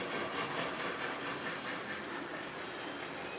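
A Conrail model train rolls around the inner loop of a layout with a continuous close rumble and light clickety-clack of wheels over track joints, steady and without talk.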